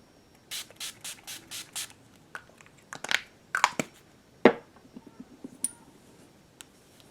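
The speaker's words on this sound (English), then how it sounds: "Urban Decay Matte Makeup Spray. Spray everything together." A quick run of short spritzes from a bottle of Urban Decay matte makeup setting spray, six or so in a row, followed by scattered softer sprays and light handling noises, close and quiet.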